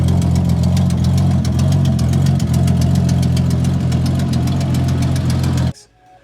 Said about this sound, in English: you can see where the gasket's blown out, which is where it makes that horrible noise.